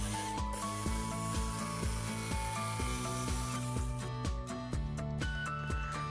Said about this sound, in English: Here you can see me doing a diagonal cut right on the curve. This helps the jigsaw to make a sharp curve cut much easier.